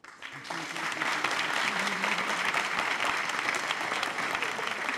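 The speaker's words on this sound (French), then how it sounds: "Bon, par applaudissement." A comedy-show audience bursts into full, sustained applause that begins abruptly and holds at an even level throughout, with a voice faintly audible beneath the clapping.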